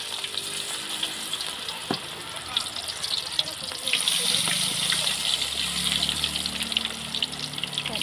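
Cauliflower pakoda fries in hot oil at home, a steady, close sizzle that thickens and grows busier as more batter pieces go into the pan.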